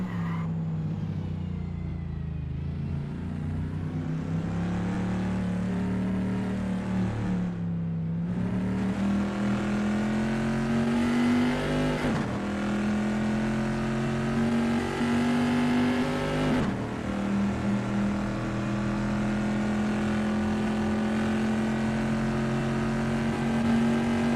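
A vintage pre-1973 Bizzarrini race car in Assetto Corsa drives through Rivazza at Imola, its engine note loud and continuous with a steady harmonic drone that drops under braking and rises again as it accelerates out of the corner.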